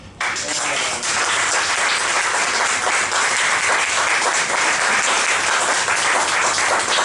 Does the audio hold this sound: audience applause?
yes